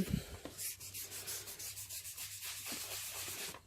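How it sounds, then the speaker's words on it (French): Soft pastels rubbed across paper to blend a background, a steady close scraping rub with rhythmic strokes, heard alone. "je repasse vraiment pour bien estomper partout"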